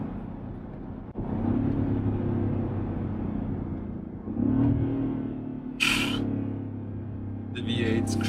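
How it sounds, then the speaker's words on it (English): Supercharged 525 hp Land Rover Defender V8 rumbling and revving up in steady pulls, a deep continuous engine drone with a louder surge midway and near the end. "The V8 screaming, it's such a good feeling."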